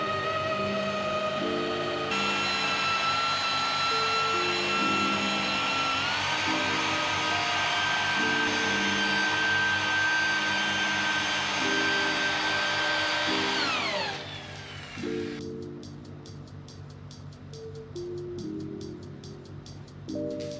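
A rotary polisher whirs steadily for about fourteen seconds while polishing a surface, its pitch shifting slightly mid-run before it spins down, followed by quieter rapid ticking and faint handling noise; no one talks.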